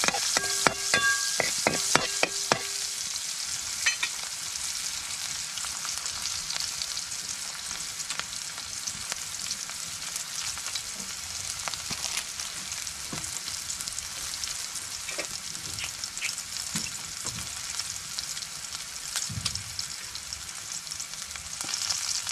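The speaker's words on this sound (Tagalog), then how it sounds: "Diyan na rin po natin ginisa sa kawaling yan." Sweet potato tops sautéing in a frying pan, a continuous bright sizzle with occasional stirring scrapes and clinks, loudest in the first few seconds and then settling into an even crackle.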